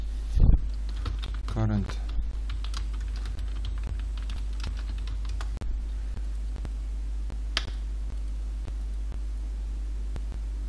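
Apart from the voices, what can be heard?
typing on a computer keyboard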